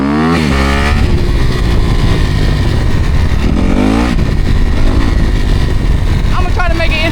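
A motorcycle rides along a road, its engine droning steadily and rising in pitch with revs and shifts, close and loud, while someone talks over it.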